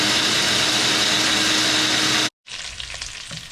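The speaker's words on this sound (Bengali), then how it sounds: "মাছগুলো মোটামুটি ভাজা হয়ে গেছে।" Pomfret fish frying in hot oil for a Bengali mustard-poppy seed curry, a loud steady crackling sizzle that cuts out briefly, then resumes a little softer.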